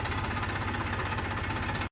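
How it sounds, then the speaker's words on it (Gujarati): Tractor engine arriving in a rural village at dusk, a loud, close, knocking diesel chug with a fast regular pulse that holds steady for about two seconds and then cuts off. "ટ્રેક્ટર આવ્યું"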